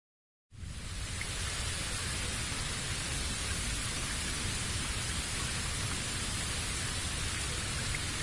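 Steady, dense rain starts abruptly and then holds as an even, close hiss with no break or change in loudness.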